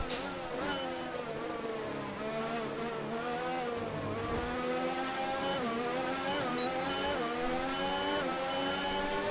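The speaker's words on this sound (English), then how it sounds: "we're revving her up for a red hot go at a hot lap" A Williams Formula 1 car in the F1 2019 racing game revs and accelerates through gear shifts, its high-pitched engine whine climbing and dropping steadily throughout, loud and continuous with no talk.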